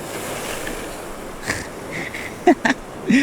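Ocean waves wash against the shore in a steady broad rush of surf, with a few brief sharp splashes and faint vocal sounds near the end.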